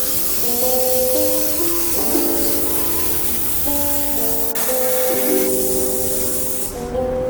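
A loud, continuous steam hiss from a steam cleaner detailing an Aston Martin runs the whole time, close and steady, with shifting tonal whistles riding over it before it briefly thins out.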